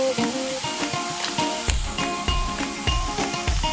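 Onions frying in a pan for masala pasta, a steady sizzling hiss with scattered crackles and a few louder pops and clatters, close and continuous with no talk.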